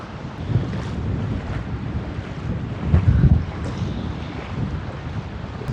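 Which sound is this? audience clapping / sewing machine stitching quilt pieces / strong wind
strong wind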